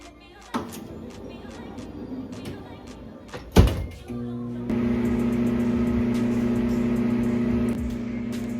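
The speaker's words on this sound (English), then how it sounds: "you're gonna put it in the microwave for about like" A microwave oven softens butter for baking snickerdoodle cookies: a heavy door thunk, then a steady electrical hum with a low drone that runs unbroken to the end, with faint clatter before it.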